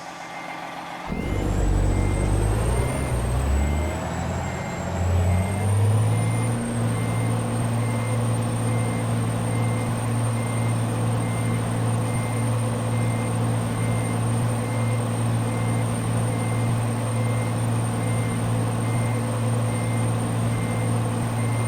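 A truck in American Truck Simulator is shifted into reverse at a drop-off point, with a rumbling engine and a hiss at the start, then a steady, evenly spaced reversing beep over a low, constant motor drone.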